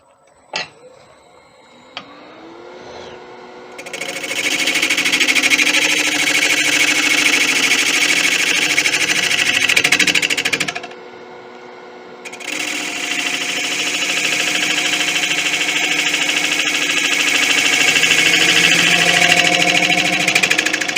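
Wood turning on a lathe, cutting the rim of a beech and bubinga bowl: a loud, steady broadband hiss of the tool on spinning wood, running for several seconds, breaking off briefly, then resuming at a similar level.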